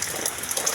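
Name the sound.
rain falling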